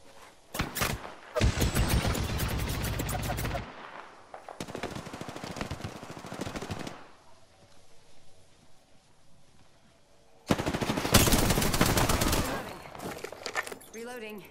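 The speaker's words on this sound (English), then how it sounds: "Opening fire." Automatic gunfire in the Apex Legends battle royale game comes in long, loud, rapid bursts, stopping for a quieter stretch before another heavy volley of shots, with game voice callouts heard between the bursts.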